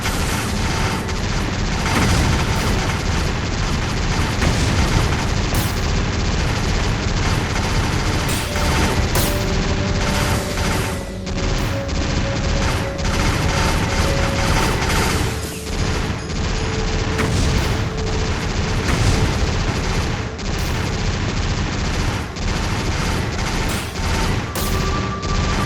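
Sustained, loud gunfire from the video game Dino Crisis 3, with rapid continuous shots and crashing impacts forming a dense barrage that runs throughout without letting up.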